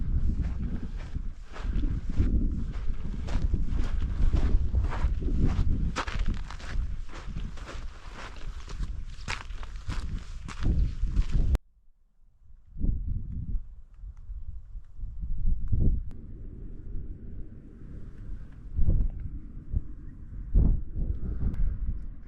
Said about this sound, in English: really windy